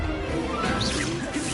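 A quick whooshing crash of the Expulso blast spell in Hogwarts Legacy, a short swishing burst with a smashing impact, close and fairly loud.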